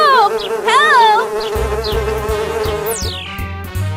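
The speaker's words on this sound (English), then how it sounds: "But why are the bees chasing them?" A swarm of bees buzzes loudly in a cartoon chase scene, a droning hum that runs alongside music and bouncy sound effects, with a falling whistle near the end.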